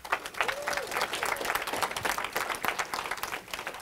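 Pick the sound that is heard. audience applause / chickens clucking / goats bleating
audience applause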